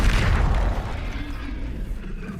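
In the Hogwarts Legacy video game, a Confringo fire spell strikes with a heavy, booming explosion that hits at full force at once, then rumbles and fades over about two seconds.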